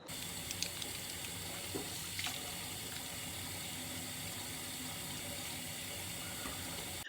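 Water runs from a bathroom sink tap during face washing. A steady, quiet splashing flow continues alone throughout, with a few small clinks and knocks.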